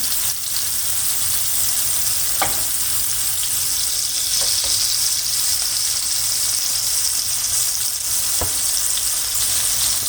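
Köfte meatballs fry in a pan with a loud, steady hiss of sizzling fat, broken by a few sharp pops and crackles.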